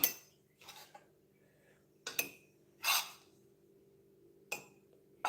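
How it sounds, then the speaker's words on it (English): Spoonfuls of cassava mixture for Jamaican bammy are scooped and tapped into a pot, giving several separate short scrapes and clinks spread out with quiet gaps between them, close and moderately loud. "I have this amount move into the main pot. I have my spoon and I will use that amount plus 2 more."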